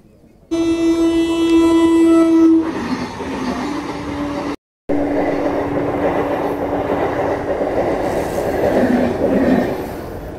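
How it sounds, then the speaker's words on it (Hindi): A train rolls past a closed railway level crossing while a motorcyclist waits. A horn blast opens, then the loud, steady rumble and clatter of the wagons carries on close by, with no talk. "ट्रेन निकल चुकी है"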